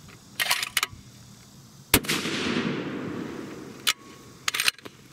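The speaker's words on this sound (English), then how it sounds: "We're gonna go ahead and shoot the next one" A custom lightweight 7mm PRC rifle fires a single loud, close shot that rolls away in a long fading echo, with a few sharp clicks and knocks before and after.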